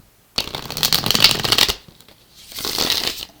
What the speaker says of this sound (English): just got 2 shuffles left to go here before we get started.